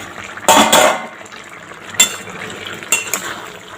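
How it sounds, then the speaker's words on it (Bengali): A metal lid comes off a pot of cooking pumpkin greens, giving a sharp clank and scrape followed by a couple of lighter metallic taps and knocks nearby. "দেখো বন্ধুরা, ঢাকনাটা আমি নামাচ্ছি।"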